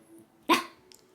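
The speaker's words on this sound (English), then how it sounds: "Silly dog." A single sharp bark from a pet dog named Bentley rings out close by in a quiet indoor room, brief and loud against near silence, with a faint softer sound trailing after it.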